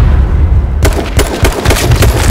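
Rapid gunfire bursts out in a first-person shooter game after a quiet start, a loud close string of sharp shots and booms that continues to the end.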